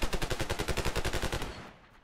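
Rapid machine-gun bursts in a desert battle in a war strategy video game, a dense run of evenly spaced shots that trails off toward the end, with no talk.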